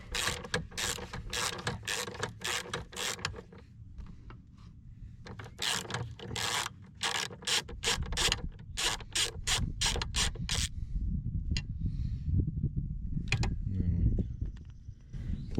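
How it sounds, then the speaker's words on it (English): A ratchet socket wrench turns a nut on the auxiliary start/stop battery of a 2016 Land Rover LR4, giving repeated bursts of fast ratcheting clicks with short pauses and a low mechanical rumble beneath. "put the socket on the nut"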